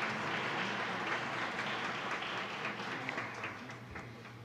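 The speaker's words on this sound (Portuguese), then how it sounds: "solicito para eles uma salva de palmas" A conference audience gives a dense, steady round of applause that tapers slightly toward the end.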